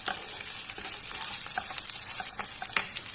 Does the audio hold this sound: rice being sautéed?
yes